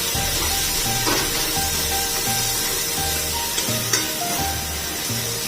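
Cowpeas (chori) with chili powder sizzle loudly and steadily in a pan, while low scraping stir strokes repeat at a regular rhythm underneath.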